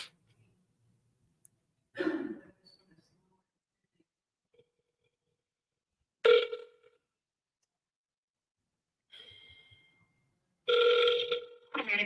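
An outgoing telephone call rings through a handset, with several short, separate ring bursts and silent gaps between them, heard fairly close in a quiet office setting.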